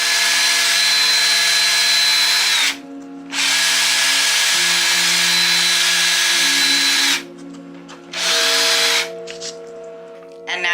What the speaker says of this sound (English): you're going to use your drill, and you're going to drill through the hole all the way